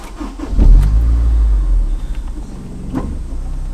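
A low-mileage Honda S2000 AP1 engine fires up with a deep, close rumble that swells after a brief crank, then settles into a steady idle inside the car.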